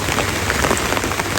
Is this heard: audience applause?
no